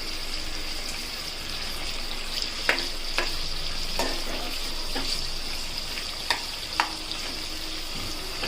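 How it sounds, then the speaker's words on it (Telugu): Bommidi dry fish frying in hot oil, a steady bright sizzle throughout with a few sharp clicks and scrapes of a utensil against the pan scattered across it; no voices. "ఫస్ట్ ఇవే వేపుకోవాలి ఆయిల్లో ఫ్రై చేస్తే స్మెల్ అనేది పోతుంది"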